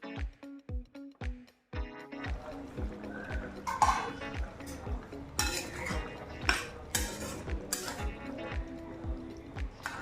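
A spoon scrapes and clanks against a pan while curry is stirred with fried potatoes added, in a quick series of close metallic knocks and scrapes that come irregularly at first and then settle into repeated stirring strokes.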